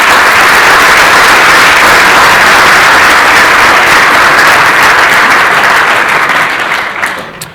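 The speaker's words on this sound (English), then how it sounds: "So if we can get a huge round of applause for our judges tonight." A business model contest audience gives the judges loud, sustained applause, with dense, even clapping throughout that tapers off only in the final second.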